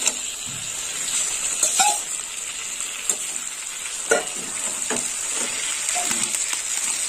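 Fried okra and bata fish curry sizzle in a pan while a utensil stirs them, giving a steady hiss broken by several scraping clinks, close and clear with no voices.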